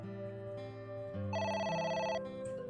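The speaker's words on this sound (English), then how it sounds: "It's the phone. Maybe try picking it up?" A phone rings in the video game AI: The Somnium Files. The trilling electronic ringtone is clear and close, with layered tones that shift pitch partway through, and no one speaks.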